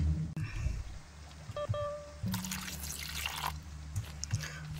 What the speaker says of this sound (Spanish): Le eché el agua purificada.